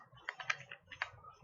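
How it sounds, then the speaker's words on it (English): A few quick clicks of typing on a computer keyboard, close and fairly quiet, in an irregular burst of keystrokes with no voices. "here I am typing like this"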